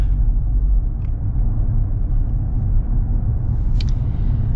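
Used Jeep Wagoneer with a Hemi V8 engine, a steady low rumble heard from inside the cabin, continuous and fairly loud, with a faint click or two.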